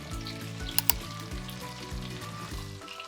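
Chicken pieces and minced chicken fry with onions in a hot pan over high flame for chicken rara, a steady loud sizzle with a couple of sharp clinks of a utensil early on and no talking.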